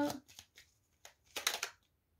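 Tarot cards shuffled by hand during a card reading: a few short, soft riffling bursts with brief pauses between, the busiest flurry near the end, close and fairly quiet.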